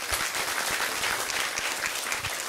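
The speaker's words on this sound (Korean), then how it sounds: "박수 부탁드리겠습니다." Moderate applause from an audience at a meeting between a global leader and students, a quieter patter of many hands clapping steadily for a couple of seconds without speech.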